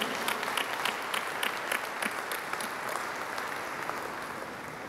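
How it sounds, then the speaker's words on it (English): Steady applause from a conference audience at HICC, Hyderabad, many hands clapping continuously at moderate volume, with no voices over it. "give a big round of applause to our guest"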